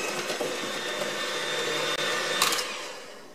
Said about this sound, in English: I'm going to put the rest of the sugar in here, and we're going to just blend this up